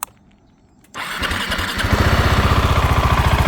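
A KTM SMC 690 R supermoto motorcycle engine, 2024 model, cranks and catches, then settles into a loud, steady, rhythmic idle close by.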